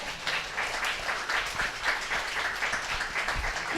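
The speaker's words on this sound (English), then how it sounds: "Can you give them a round of applause for that?" An audience at a speaker series event applauds, steady dense clapping from a crowd at moderate distance, holding throughout.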